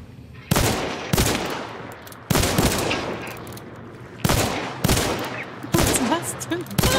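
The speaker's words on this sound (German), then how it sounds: "Der schießt auf mich" Gunfire in the online shooter Hunt: Showdown: five loud, sharp shots spaced irregularly a second or so apart, each with a booming tail echoing into the next.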